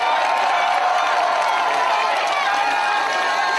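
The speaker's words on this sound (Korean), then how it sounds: "여러분 박수 많이 보내주세요." A political rally crowd in Seoul claps and cheers in a dense, continuous wash of applause, loud and steady throughout.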